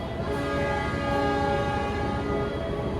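A feeder train passes through a station, its steady rolling roar filling the scene while a long, loud horn blast holds throughout, close and continuous.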